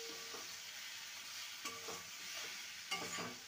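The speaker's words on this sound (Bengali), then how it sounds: "এবার ভালো করে মশলার সাথে কষিয়ে নেব।" Spices for egg ghugni stir-fried in a pan, giving a steady close sizzle with occasional scraping strokes of a spatula, no voices.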